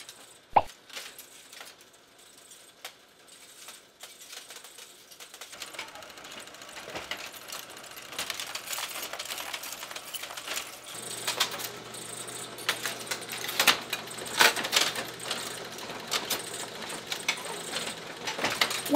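A Linotype typesetting machine at work distributing and casting brass matrices, a dense clatter of clicking, rattling mechanical parts that starts sparse and builds into a busy, continuous churn with a steady low drone underneath.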